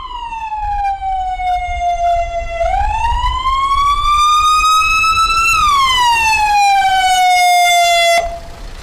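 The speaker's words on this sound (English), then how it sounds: "dispatch an ambulance under blue lights" A loud ambulance siren wails nearby, sliding slowly up and then back down in a long tonal sweep before cutting off abruptly.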